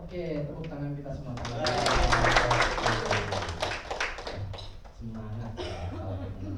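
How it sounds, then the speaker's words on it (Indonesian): A group of students in a classroom claps together in a burst of quick, close hand claps that swells and then fades, with a teacher's voice speaking around the applause. "tepuk tangan kita semua"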